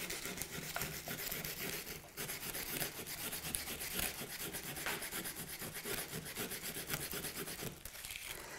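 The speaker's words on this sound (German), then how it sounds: "Oder ich nehme mir wieder Schleifpapier zu Hilfe." Sandpaper rubs bark off a wooden stick being shaped into a spinning top, giving a steady, fairly quiet scratchy rasp that carries on with small pauses and changes in stroke.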